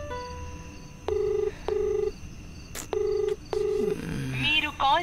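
An outgoing phone call rings unanswered: two pairs of electronic ringback tones pulse at a steady rhythm, followed by a brief voice at the end.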